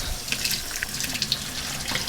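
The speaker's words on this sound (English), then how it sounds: "with cold water, I go ahead and I give this a nice little rinse" Cold water runs from a kitchen tap as something is rinsed under it, a steady close splashing stream with small irregular spatters and drips throughout.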